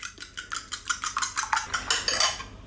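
Eggs beaten into an omelette in a bowl, a fork or whisk clicking rapidly against the side in a steady quick rhythm, close and alone, for a few seconds.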